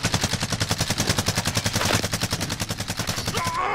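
Rapid automatic gunfire in a video game rattles out in a steady, loud burst of evenly spaced shots that runs for several seconds with no break.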